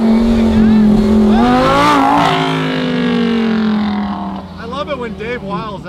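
A Lamborghini revs hard and accelerates with a loud, close engine note rising in pitch, then drops as a gear shifts near the two-second mark before pulling again; people talk and shout over it toward the end.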